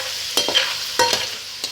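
Food frying in ghee in a pan, a soft steady sizzle with a few brief clinks and stirring scrapes.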